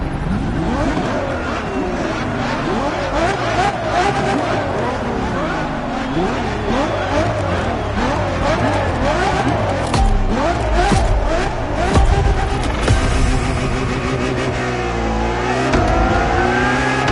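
A Ferrari LaFerrari supercar engine revs hard and repeatedly, rising and falling in pitch as it accelerates, with tyre squeal at moments and a voice speaking over the loud engine.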